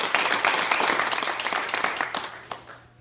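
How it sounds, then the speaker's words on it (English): An indoor crowd at Red's Indoor Range, at a Texas open carry law signing, breaks into dense clapping that rings out loudly, then thins and fades over a few seconds. "Yes, Alice, they deserve a round of applause."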